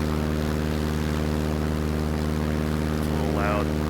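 Aircraft engine in Microsoft Flight Simulator 2024 heard from the external view, a steady loud droning hum with strong tonal layers, unchanging throughout, with a brief faint voice near the end.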